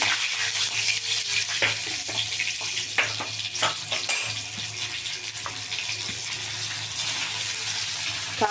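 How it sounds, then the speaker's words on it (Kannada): Green chillies and curry leaves fry in a pan with oil, a steady sizzle under occasional stirring clinks and scrapes, close and fairly loud throughout, no voices. "ಮೆಣಸಿನ್ಕಾಯಿ ಹಾಕ್ತಾಯಿದ್ದೀನಿ ಫ್ರೈ ಆಗಲಿ"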